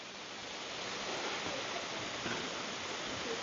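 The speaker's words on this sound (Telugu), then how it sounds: "అడవిలో జలపాతం" A forest waterfall at Khao Yai in Thailand gives off a steady, broad roar of falling water, loud and unbroken, with nothing else heard over it.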